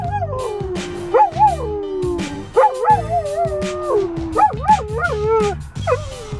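A dog howls up close in long rising and falling wails, with short yips and barks mixed in across several seconds, loud and with no talking.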